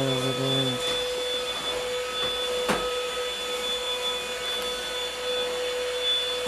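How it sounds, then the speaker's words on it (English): A vacuum cleaner runs steadily on a floor at home, a constant whining drone with a high tonal hum that holds without pause the whole time, fairly close, with a brief knock near the start. "Vacuum on the floor."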